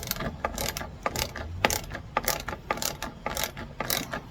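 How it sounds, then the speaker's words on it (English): A 5mm Allen key on a wrench turned while seating a Brightlines roof rack on a 2019 Honda Pilot, giving a run of quick, close ratcheting clicks in an even rhythm. "I got a 5mm Allen on a wrench here, and I'm just turning it, pushing down"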